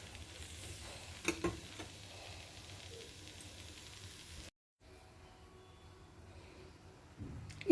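Boiled potatoes with turmeric and chilli powder frying in a pan give a steady, close sizzle and hiss, with a few stirring knocks, a short break in sound, then the frying resumes.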